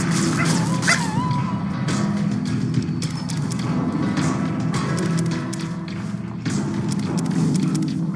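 Feral dogs in the video game Fallout: New Vegas, near Boulder City, growl and yip amid dense game combat noise, with occasional short whines and footsteps under a constant loud background.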